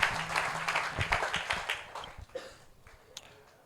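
A church congregation claps and applauds loudly in a dense, continuous wash that gradually thins and fades out.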